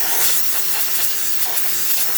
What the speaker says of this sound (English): Really good pressure coming out of the steam one, no leaks or anything